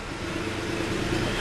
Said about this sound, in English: When you wide open throttle, it bogs down.